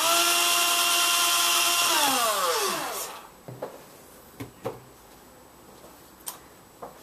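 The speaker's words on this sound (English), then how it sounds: "and then just drill it all the way through" A power drill whirs loudly through an acrylic sheet, then winds down and stops, followed by a few sharp faint ticks and taps in quiet.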